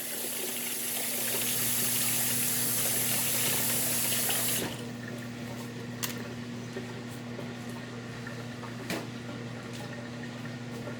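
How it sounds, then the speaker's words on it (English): Tap water running into a sink while paint brushes used for food-safe paint are rinsed, a steady loud gush that cuts off abruptly partway, leaving a quieter hum with a couple of small clicks. "I'm going to rinse my my paint brushes that for food safe paint."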